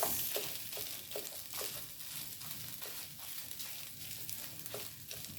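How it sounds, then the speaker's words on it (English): Beaten egg sizzles in a hot pan of rice, a soft continuous frying hiss broken by repeated scraping stirs, close and fairly quiet with no voices. "we're gonna take our egg and we're gonna break it up and put it into our rice"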